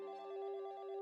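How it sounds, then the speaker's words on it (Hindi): A phone rings with an incoming call, a steady electronic warbling tone with a fast pulsing trill lasting about a second, clear and close with no voices. "हेलो मीत, थैंक गॉड तुम्हारा फोन आया।"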